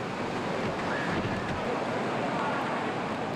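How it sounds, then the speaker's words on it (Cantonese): Typhoon Molave's strong wind and pounding waves at the Tsim Sha Tsui ferry pier in Hong Kong roar as a dense, unbroken wash of noise with heavy gusts buffeting the microphone. "喺尖沙咀碼頭風勢強勁。"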